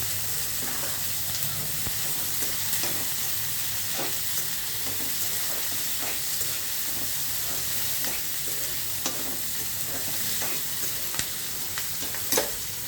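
Bitter gourd fries in a pan for a tamarind curry, a steady crackling sizzle throughout with frequent scraping and clicking strokes of a stirring spoon close by.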